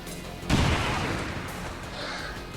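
A grenade blast in the video game XCOM 2: War of the Chosen erupts suddenly as a loud, broad burst of explosion, then trails off into a long rumbling, crackling tail.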